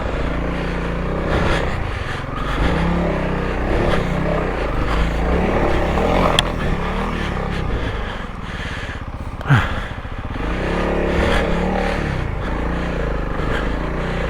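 Honda CRF300L dual-sport dirt bike ridden off-road through rough ruts, a loud continuous engine drone with wind and scraping noise close to the microphone, one sharp burst near the end.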